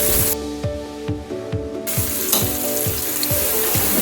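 Onions fry in a pan for aloo keema, a continuous close sizzle with soft regular scraping or stirring thumps beneath it.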